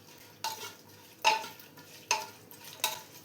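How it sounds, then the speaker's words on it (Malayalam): A spoon stirs snake gourd curry in a pan, making four sharp scraping clinks against the metal at an uneven spacing, close and clear with no voices. "ഇനി ഇതെല്ലാം കൂടെ നന്നായി ഒന്ന് മിക്സ് ചെയ്ത് കൊടുക്കണം."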